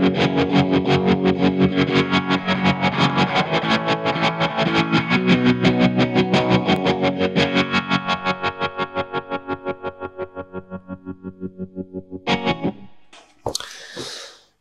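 Electric guitar through a Mooer Trelicopter tremolo pedal with phaser, loud sustained chords pulsing in fast, even choppy throbs, fading out near the end into a few scratchy noises.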